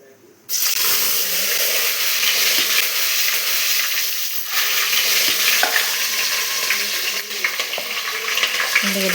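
Onions go into hot oil for a Rayalaseema-style mutton curry and sizzle loudly and steadily after a sudden start, with occasional stirring scrapes close by. A voice talks now and then under the frying.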